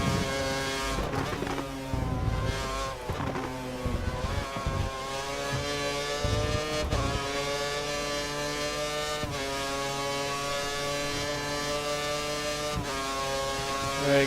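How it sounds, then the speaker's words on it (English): A Formula 1 car's engine in the F1 2013 racing game, driving a Sauber at the England round, holds a loud steady whine with rising harmonic sweeps as it builds revs, and the sound runs continuously and alone. "There's a little engine boost."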